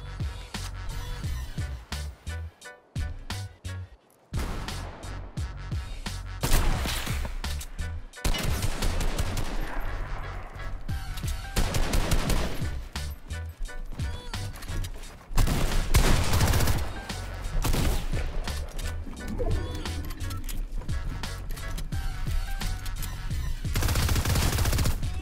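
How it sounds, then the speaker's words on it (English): A laser gun fires in Fortnite, with dense, rapid bursts of shots that repeat in loud volleys. Brief pauses break the bursts across the whole stretch. "What is this gun? And why is it a flipping laser?"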